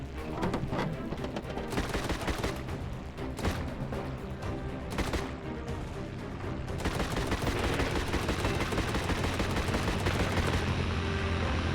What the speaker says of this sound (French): Pourquoi moi je tire de l'eau et eux tirent des balles?